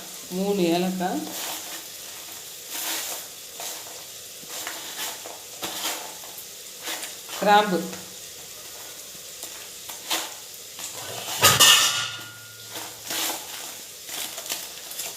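Whole cinnamon, star anise and cardamom fry in hot oil for a chicken masala biryani, giving a soft, continuous sizzle broken by several louder crackling bursts and stirring scrapes, close by.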